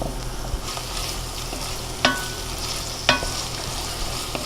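Onions sizzle in a pan for a marinara sauce, a steady soft frying hiss running throughout with two sharp stirring clicks of a utensil against the pan partway through.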